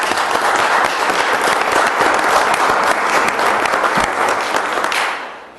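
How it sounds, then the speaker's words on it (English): An audience at a village reorganization meeting gives a loud, sustained round of applause, dense clapping that holds steady for about five seconds and then fades quickly. "I think you deserve a round of applause."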